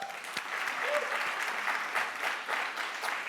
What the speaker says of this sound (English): Let's clap for Professor Falola and his team.